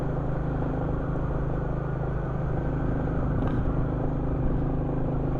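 A Royal Enfield Classic 350 motorcycle, still being run in before its first service, puttering along quiet country lanes with a steady low engine thrum and wind rumble, no talk over it.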